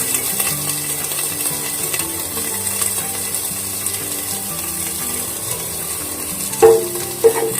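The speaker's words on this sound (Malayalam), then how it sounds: "നേരത്തെ യൂസ് ചെയ്തിരുന്ന ചട്ടിയിലേക്ക് കുറച്ച് കൂടെ വെളിച്ചെണ്ണ ഒഴിച്ചിട്ട് നമ്മൾ നേരത്തെ തയ്യാറാക്കി വെച്ചിരുന്ന ബാക്കിയുള്ള ഇൻഗ്രീഡിയൻസ് എല്ലാം നമുക്ക് ഇട്ട് കൊടുക്കാം." Noodle ingredients fry in coconut oil in a previously used pan, giving a continuous low sizzle with faint scraping, then two sharp metallic knocks near the end.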